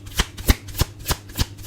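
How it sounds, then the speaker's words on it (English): Tarot cards being shuffled in about five quick, crisp riffling bursts spaced roughly evenly, close and clear with no talking. "When I try to shuffle for Sabrina, it's like nothing really comes out"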